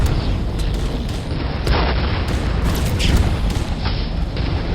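Tank cannon fire in Tanki Online: several booming shots and bursts punctuate a continuous, loud roar of game noise, with no clear speech.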